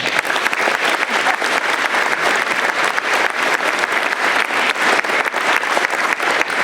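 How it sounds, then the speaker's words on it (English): A school crowd at an awards night gives the senior class a round of applause, a loud, dense and sustained roar of clapping that holds steady throughout without speech. "So a round of applause for our senior class"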